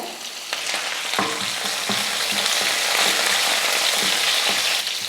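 Crushed garlic cloves and curry leaves frying in hot oil in a pan, a steady dense sizzle with occasional stirring knocks, close and loud throughout, no voices.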